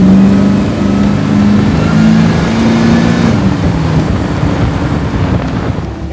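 Hellcat-powered 1967 Dodge Dart built by Gas Monkey Garage, a loud, close drone with a rising and falling supercharger whine over a heavy broadband rumble and wind buffeting.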